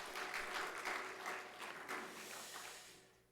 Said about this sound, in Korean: 우리 방송실 힘내서 또 할 수 있도록 다시 한번 크게 박수하겠습니다